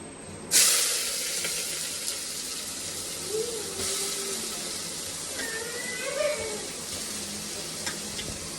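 Onions dropped into hot oil for a curry set off a sudden, steady sizzle that keeps crackling at moderate volume, with faint clinks from the pan.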